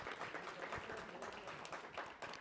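Applause from the audience at an economics panel forum for a departing panelist, a soft, distant, steady patter of many hands clapping with no voices.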